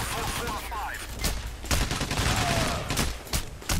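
Heavy gunfire in the video game PAYDAY The Heist comes as rapid automatic bursts and overlapping shots, loud and close throughout, with voices talking over the shooting.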